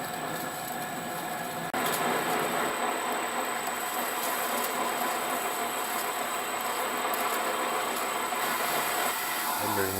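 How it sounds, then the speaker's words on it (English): A large drill grinds steadily into aluminium, a loud continuous whine with a harsh rattling texture, starting abruptly and holding constant. "now the drill is centered in the hole, and we can make some nice chips here"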